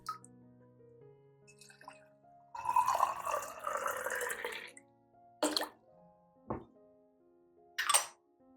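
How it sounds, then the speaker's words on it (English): Water from a watering can trickles around the base of a potted orchid, a sustained pouring splash of about two and a half seconds followed by three short separate drips and splashes, close and quiet. "water gently and evenly around the base of the orchid"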